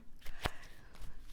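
Playing cards being shuffled by hand during a tabletop strategy game, one sharp riffling burst in the middle with softer card rustles before and after, close and fairly quiet.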